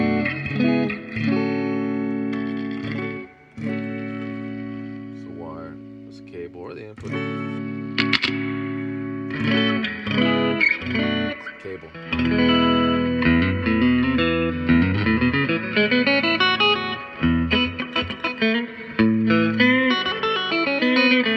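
An electric guitar plays through a 1978 Roland GA-20 solid-state 12-inch amp with reverb on. Riffs and chords of notes and sustained runs ring out loud and close for about twenty seconds, each with a spacious reverb tail.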